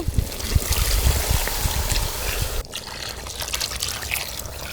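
Water poured into a simmering pot of chicken masala with chili powder, garam masala, coriander powder and ground coconut paste, a close trickling splash that stops abruptly partway, leaving quieter bubbling and faint kitchen noise.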